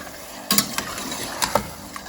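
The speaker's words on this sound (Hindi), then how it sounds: "और इसको मैं चलाऊँगी ताकि टमाटर भी गल जाएँ और इसका सालन तैयार हो जाए" Tomatoes cooking down into biryani salan are stirred in a pot, giving several sharp scraping strokes and clinks over a low simmering sizzle, close and distinct.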